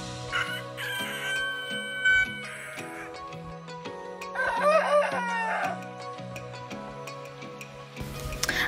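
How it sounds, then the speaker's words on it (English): A rooster crows loudly in a few drawn-out, rising calls amid other bird chatter and some hollow knocking sounds. "showing you what a crow really sounds like"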